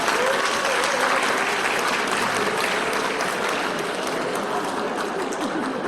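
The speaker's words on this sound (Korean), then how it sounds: "큰 박수로 환영해 주십시오." Sustained, loud applause from an audience welcoming the head of the Public Procurement Service at a Korean public procurement expo, steady clapping filling the room throughout.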